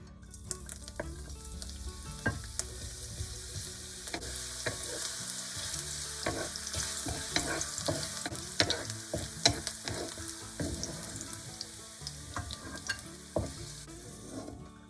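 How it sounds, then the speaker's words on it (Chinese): Carrots stir-fry in hot oil in a wok over high heat, a loud steady sizzle broken by rapid scraping and clanking strokes of the spatula throughout, with no voices. "先炒胡萝卜30秒"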